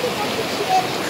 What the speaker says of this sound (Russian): Ребята, вот эта вода течет из горы.